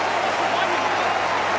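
A stadium crowd at a West Coast Eagles versus Sydney Swans AFL match roars steadily, a broad continuous wash of many voices urging a player to shoot, with no break.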